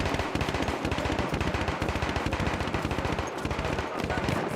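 Sustained rapid automatic gunfire from the video game Battlefield 1, a dense, loud, continuous stream of shots with explosions mixed in and a voice talking faintly underneath.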